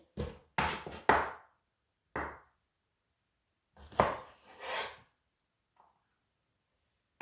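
A knife chops down onto a board, trimming the dry ends off French beans: a few sharp, close knocks in small clusters separated by quiet pauses, with no one talking.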